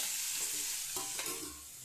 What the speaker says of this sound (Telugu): చింతపండు కూడా ఉంది కదా అది కూడా వేసి కొంచెం వేయించుకొని